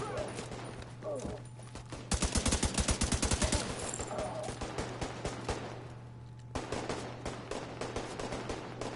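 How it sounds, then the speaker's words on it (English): Gunfire in The Division 2, rapid automatic bursts rattling out in quick rhythmic volleys with scattered single shots, fairly loud over a steady game hum. "Oh, you did not just pop shots off at me."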